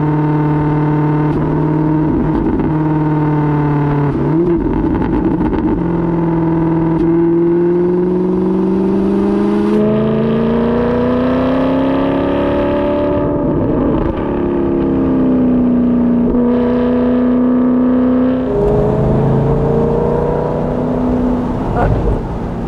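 A convertible car with an electric folding roof drives along, its engine note steady and close, rising and falling in pitch with gear changes and acceleration throughout.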